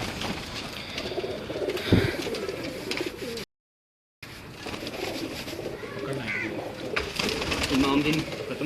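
Pigeons of a fancy breed kept by a hobbyist coo softly and repeatedly near by, with someone talking over them throughout.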